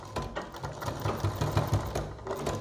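Sewing machine stitching a boat neck design, a steady close whirring hum with rapid needle pulses running throughout.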